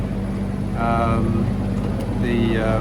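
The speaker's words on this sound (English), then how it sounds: "you can hear the engine in the background" Sailboat engine running steadily while motoring, a low continuous drone with a hum underneath, heard behind someone speaking close by.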